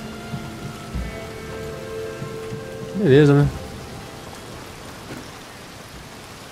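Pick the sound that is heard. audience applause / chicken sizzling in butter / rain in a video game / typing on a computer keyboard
rain in a video game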